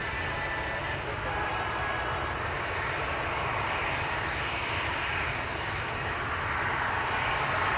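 A KLM Boeing 787 Dreamliner jet roars steadily at Amsterdam Schiphol Airport, a loud, sustained low engine rumble filling the air with no gaps.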